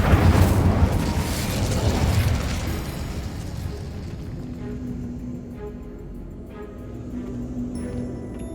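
An Incendio fire spell in Hogwarts Legacy erupts as a loud, roaring burst of flame that fades over several seconds into a lingering, rumbling crackle, heard alone without speech.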